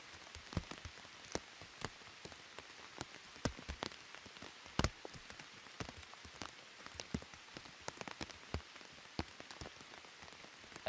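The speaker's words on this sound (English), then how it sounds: "it's just going to pour down" Heavy rain pours down in the Colombian jungle, a dense steady hiss of drops with sharp individual impacts spattering close by throughout.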